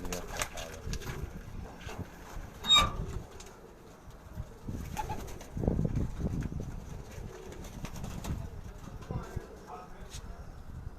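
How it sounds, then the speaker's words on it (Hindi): Soft, low pigeon coos repeat intermittently in a cluttered indoor pigeon loft, with rustling, fluttering and a voice talking nearby. "अब ये हीरा लाल जो कबूतर हैं उनकी मैं आपको आँख दिखा रहा हूँ।"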